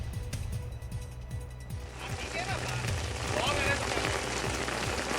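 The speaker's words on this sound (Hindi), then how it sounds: "अभी भी ज़ोरदार बारिश हो रही है" Heavy monsoon rain falls on a street in Dadar, Mumbai, a steady dense hiss of rain on surfaces throughout, with a low rumbling engine-like drone underneath and a voice talking over it.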